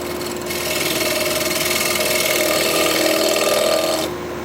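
Steady rasping scrape of a tool shear scraping koa wood on a spinning lathe, a continuous close, fairly loud rubbing hiss with a faint whine, stopping just before the end.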